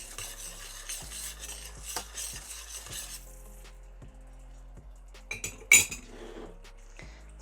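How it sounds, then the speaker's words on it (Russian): Honey syrup with citric acid being stirred in a pot, a spoon scraping and clinking against the metal sides in a steady rhythm for a few seconds, then quieter with a few sharp clinks near the end. "Снова это все перемешиваем."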